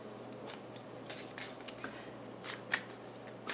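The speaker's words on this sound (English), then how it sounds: "Let's just pull the cards" Tarot cards being shuffled and pulled, with close, repeated riffling flutters and soft slaps of card stock coming in irregular bursts.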